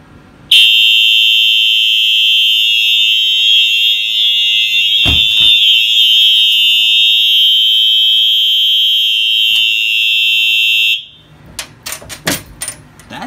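Fire alarm system test with the AES unit on high volume, a piercing continuous electronic tone sounding loudly for about ten seconds before cutting off, followed by a few clicks and rustles.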